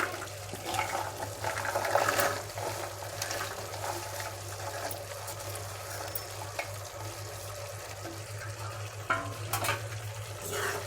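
Sprouted black-eyed peas being stirred into a potato curry in a pan, giving soft, steady scraping and wet churning sounds with a gentle sizzle, all under a constant low hum and with no talking.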